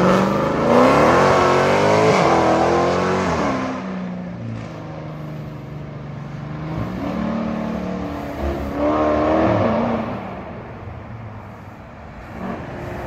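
A fully built, ProCharged (supercharged) 392 Dodge Charger with straight pipes revs hard and close, its engine rising and falling through several sustained, loud pulls with no talk.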